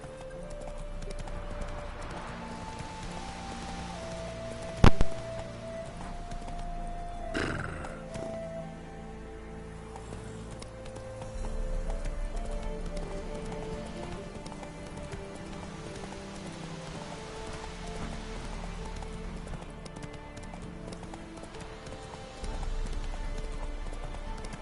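A horse gallops in the video game The Witcher 3, a steady rhythmic clip-clop of hooves with one sharp thump early on and a soft rain-like patter beneath.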